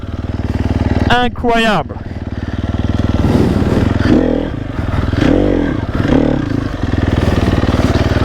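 A new enduro motorcycle's engine pulls hard on an off-road trail, a loud steady drone with rising revs and clatter near the start, while someone speaks excitedly over it.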